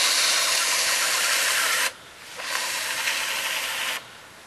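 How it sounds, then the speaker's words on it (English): A handheld hair steamer blasts a loud, broadband hiss of steam onto dreadlocks, cutting out briefly twice then resuming, close up with no voices. "Get your steamer and start steaming."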